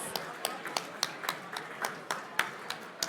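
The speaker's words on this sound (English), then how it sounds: "Let's give them a round of applause, please." At an M&A awards gala, a few distinct hand claps ring out at a fairly regular pace over a soft room murmur, sparse rather than a full crowd ovation.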